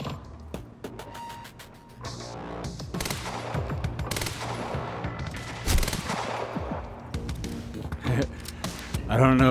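Pistol gunfire in the video game Quantum Break crackles in sharp bursts of shots amid clattering action effects, loud and close, with a person talking over parts of it.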